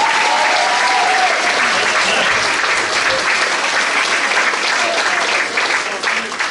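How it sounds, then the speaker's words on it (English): Steady, loud applause from a village concert audience, dense clapping that continues without a break and fades slightly at the end, with no voices over it. "Yes, give him a nice round of applause."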